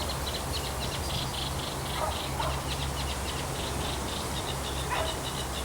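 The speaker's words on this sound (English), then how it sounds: "They're probably all the sedge warblers" Sedge warblers sing from reeds beside a pasture, giving repeated scratchy, chattering phrases and short chirps at a moderate distance over a steady outdoor hum of insects, with no talk.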